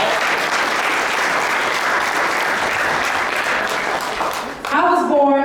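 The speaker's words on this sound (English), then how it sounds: "Now, I think that deserves a hand clap." Loud, dense audience hand clapping at a Martin Luther King Jr. celebration event, a continuous roar of applause that breaks off near the end as a voice begins speaking.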